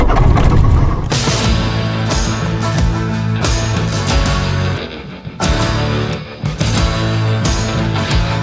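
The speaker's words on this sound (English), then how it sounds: "The takeoff works, but with tailwind, we're right on the limit at this elevation." Light aircraft engine roaring during a takeoff roll on a 6000 ft mountain airstrip in the Dolomites with a tailwind, a loud, steady droning buzz with a few brief dips and surges.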